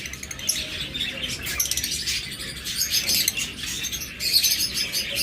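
A pair of lovebirds, a green split ino and a green wing, chirp in rapid, overlapping bursts of high tweets, close and fairly loud with no talk.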